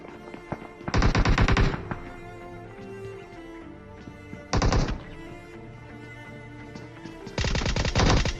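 Automatic gunfire in a shooting video game, three loud rapid bursts about a second long each, spaced several seconds apart, with quieter game sounds between and no talking.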